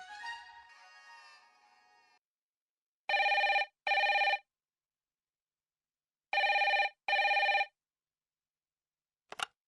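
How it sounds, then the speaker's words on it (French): An electronic telephone rings in a double burst, pauses, then rings in a second double burst, clear and loud against silence, after a short stretch of music and before a faint final blip. "Dieu sait qui appelle encore et encore."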